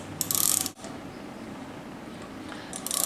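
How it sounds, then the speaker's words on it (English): A ratchet with an extension turning a thread repair tool into a spark plug hole, giving a short burst of close metallic ratcheting clicks, a pause of steady hiss, then another brief clicking run. "Now we're using our same ratchet with the extension on our tool"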